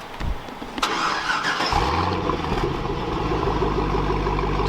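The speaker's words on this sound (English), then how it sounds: "so we got the key over here, so let's go ahead, give it a start." A newly bought car's engine is started with the key, a brief cranking whir catching into a steady, close, rumbling idle that holds alone to the end.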